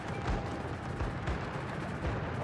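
Rapid anti-aircraft flak guns firing from a warship in World of Warships, a dense, continuous barrage of overlapping bursts close by and loud, with no pauses across the stretch.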